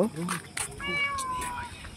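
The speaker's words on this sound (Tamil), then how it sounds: "பெரிய காட்டு பூனை ப்ரோ" A wild jungle cat calls at night with a drawn-out, wavering cry lasting about a second, while people talk nearby.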